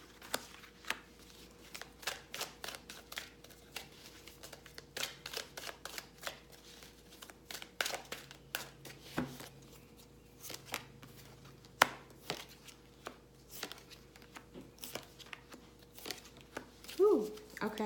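Tarot cards are shuffled by hand in a quiet room, giving a series of soft, quick riffling and tapping clicks in irregular bursts, faint and close, with occasional light rustles.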